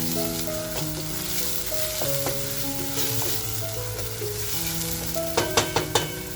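Chopped onion fries in oil over a full gas flame: a loud, steady sizzle with faint sustained tones beneath and a few sharp stirring knocks toward the end.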